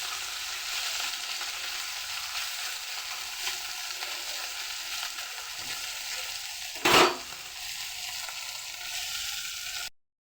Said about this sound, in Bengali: এখানে চুনো মাছটা ভাজছি, চুনো মাছের ঝাল করবো